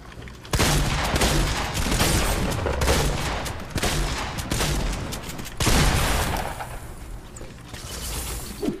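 Gunfire in the Fortnite video game rattles in dense, sustained automatic bursts, loud and nearly continuous, with a short break midway before firing resumes.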